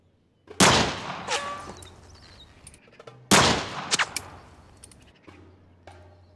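Two loud, sharp gunshots about three seconds apart, each followed by echoing ricochet whines and a scatter of smaller clicks and metallic rattles, with near silence between them.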